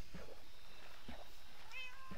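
Cats in Minecraft meowing repeatedly, three or four distinct short meows spaced about a second apart, clear and moderately close against a quiet game background.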